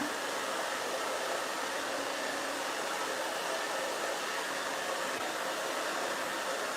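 A hair dryer blowing while hair is dried for a haircut gives a steady, loud, unbroken whooshing roar from start to finish, with no talking.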